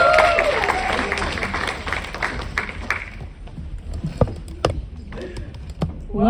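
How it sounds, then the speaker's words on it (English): An audience claps loudly for about three seconds at an event introducing a performer. The clapping then thins into a few scattered claps and knocks under a quiet room. "Keep clapping, keep clapping"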